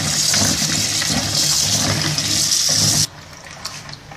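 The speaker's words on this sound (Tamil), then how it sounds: "இந்த மாதிரி நல்லா தேய்ச்சி நல்லா வாஷ் பண்ணிக்கோங்க" Baby mangoes are scrubbed and washed under loud rushing water for about three seconds, then the flow cuts off abruptly, leaving quieter light splashing and handling.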